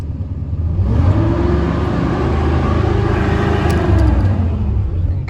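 A car engine, on an older vehicle with a possible burning belt, rumbles and rises in a sustained rev as the pedal is pressed, then holds loud and steady.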